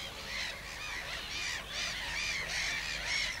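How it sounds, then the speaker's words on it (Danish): Harsh, repeated gull calls ring out near a black-headed gull colony at Vest Stadil Fjord, several loud squawks in quick succession, close and alone without talk. "Det var en måge, der kom forbi."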